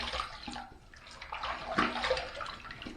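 Tap water runs steadily while a safety razor is rinsed between shaving passes, a close, continuous splashing wash with some sloshing.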